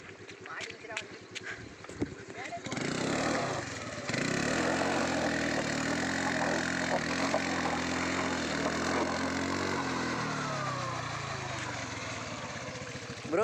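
A motorbike stuck while riding off-road: after a few clicks and knocks, the engine roars loudly and steadily for several seconds up close, then drops off near the end.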